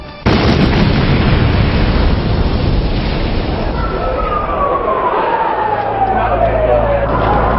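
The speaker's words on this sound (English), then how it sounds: "the van exploded" A van bomb detonates in the underground garage beneath the North Tower of the World Trade Center, a loud sudden blast followed by a long rumbling roar and a descending whine, with a low drone settling in at the end.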